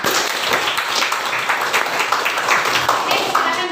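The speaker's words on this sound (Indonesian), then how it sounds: "Oke, tepuk tangan buat kalian yang sudah memberikan jawaban." A classroom of students claps along, with the applause dense and continuous for several seconds and loud throughout.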